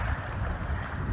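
Wind blowing through a sailboat's rigging out on the water, a steady, moderately faint rushing whistle with wind buffeting the microphone and no voices.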